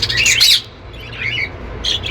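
Parakeets or budgies (Australian parrots) in an aviary squawk in short, sharp bursts close by, with a brief lull between calls.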